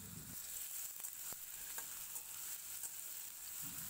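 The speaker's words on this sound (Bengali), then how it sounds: "আমি কেটে রাখা আলুগুলো আর গাজরটা এর মধ্যে দিয়ে দিলাম। একটু ভাজা ভাজা করে নেব।" Cut potatoes and carrots fry in a pan with a little salt, giving a steady close sizzle with occasional soft stirring clicks and no voices.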